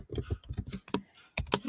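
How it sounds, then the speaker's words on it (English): Keystrokes on a computer keyboard while annotating a PDF in Adobe Acrobat, coming in quick irregular bursts of close, crisp clicks with short pauses between groups. "And you can start typing."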